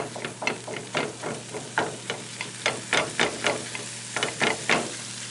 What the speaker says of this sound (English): So we're just going to brown this up.